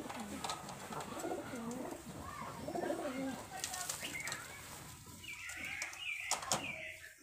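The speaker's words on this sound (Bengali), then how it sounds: "রাজশাহীর গিরিবাজ কবুতর, তারা কবুতর জোড়া নিতে পারেন" Rajshahi Giribaz high-flyer pigeons coo close by in repeated soft, rolling calls, with a few brief flutters and knocks in the background.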